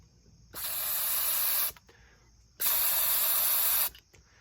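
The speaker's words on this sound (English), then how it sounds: "So the atomizer then can be used to use glazes, to glaze your pots like a spray painter without a compressor" A homemade suction atomizer sprays pottery glaze in two bursts of loud, broad hissing, each lasting over a second, with a short quiet pause between them.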